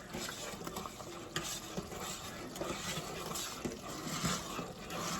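A bubbling corn puff mixture is stirred steadily in a pot, giving a continuous close, busy scraping and churning with soft bubbling texture and occasional louder spoon knocks throughout.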